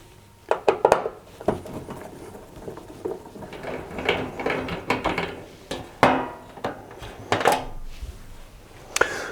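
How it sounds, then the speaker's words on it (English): A Phillips screwdriver works screws loose from the metal heater cover of a clothes dryer. Scattered close metallic clicks, taps and rattles come in irregular bursts, with handling noise between them and no talking. "for these bottom ones, I'm going to use a Phillips headed screwdriver."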